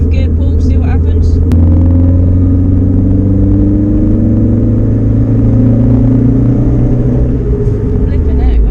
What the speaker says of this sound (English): just going to do a fourth gear pull, see what happens